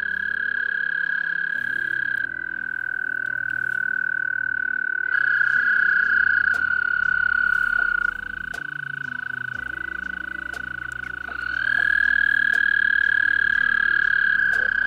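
Several American toads trill together in breeding season, long sustained high-pitched calls overlapping and shifting slightly in pitch as one voice fades and another takes over, loud and near, with scattered faint clicks.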